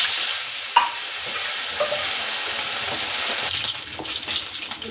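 Fish frying in hot oil in a pan, a steady close sizzle running throughout with occasional stirring scrapes and small pops.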